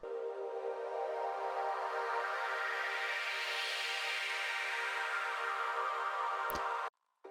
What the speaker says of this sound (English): And the only difference here is that I took a band filter and then move it around a lot.